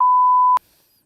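A steady, loud pure tone of a censor bleep holds for about half a second and cuts off abruptly, followed by near silence.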